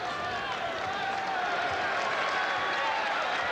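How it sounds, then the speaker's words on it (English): A basketball crowd at the Forum during an NBA game, Rockets against the Lakers in 1991, keeps up a steady, broad roar and cheer, distant and continuous, with no distinct claps. "Quiet crowd as usual at the Forum in the first half, and a few now making their voices heard"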